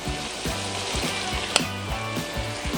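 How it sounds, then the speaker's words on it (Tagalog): Pork sautéing in a pan with ginger and softened onion gives a steady sizzle with a faint mechanical rattle underneath. A single sharp clink stands out midway through. "Gigisa lang natin to at ipapa-brown."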